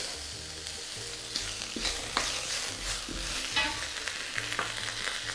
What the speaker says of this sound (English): And we are going to add butter. And some garlic.